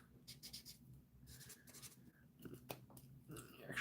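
A colored pencil scratches on paper in short, quiet strokes with brief pauses between them, close and soft, with no talking.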